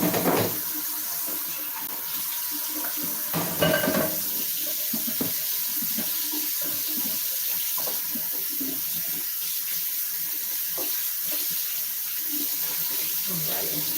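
Dishes get rinsed under a running kitchen faucet, a steady rush of water hitting the sink with occasional clatters as items are handled, close and continuous throughout.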